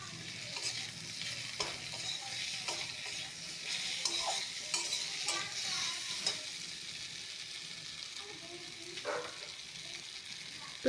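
Potato and pointed gourd sautéed with onion and tomato, a steady soft sizzle under repeated light scrapes and taps of a spatula in the pan throughout.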